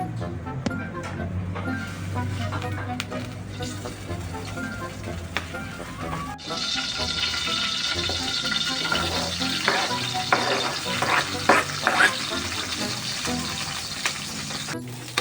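Boiled food being sautéed in a pan, a soft background hiss that turns into a louder, steady sizzle partway through, with scattered stirring scrapes and clicks.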